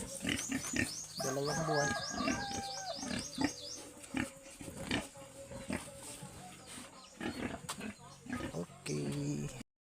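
Pigs and piglets grunting and squealing at a farm, with repeated high squeals and low grunts close by, mixed with people talking and some knocks.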